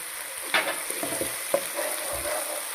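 Chili sauce and soy sauce fry in a pan with a steady soft sizzle, punctuated by a few light stirring scrapes and clinks, fairly quiet and without any talking.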